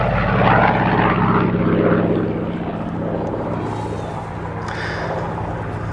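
A Corsair propeller fighter at the Battle on Britain airshow 2022 passes with a loud droning engine roar that peaks early and then fades into a more distant hum. A voice comments over it.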